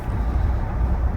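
Steady low road rumble of wind and tire noise inside the cabin of a 2023 Ram 1500 Limited pickup while driving, a constant even drone with no talking.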